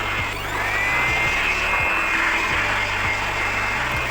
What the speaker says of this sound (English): Asian Paints handheld blower is easy to operate.